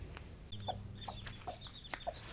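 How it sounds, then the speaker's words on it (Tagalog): Chickens cluck softly and repeatedly nearby, short clucks scattered over a steady background murmur. "Magpapakain na muna tayo ng ating manok."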